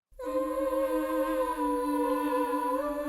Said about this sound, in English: they have another layer underneath where they're doing this, oohs and ums